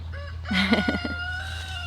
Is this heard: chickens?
yes